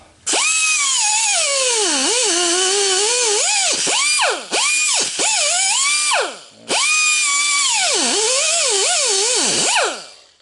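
A loud, whining power tool grinds through metal, cutting the end off a dryer, its pitch dipping and rising as the blade bites, with a few short breaks in the cutting.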